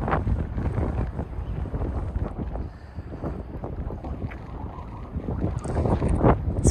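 Gusty wind near the Niagara River in the Buffalo, New York area blasts across the microphone in continuous rough rumbling bursts, loud and close, with no talking.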